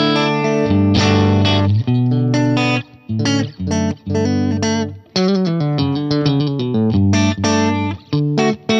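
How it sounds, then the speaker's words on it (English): An Ibanez RG1 XXV electric guitar plays a clean tone through a Fender Deluxe Reverb amp model with the neck and middle pickups combined. Chords and single notes ring loud and close in a continuous, rhythmic passage with brief gaps. "this is what my clean tone sounds like with the neck and middle put together"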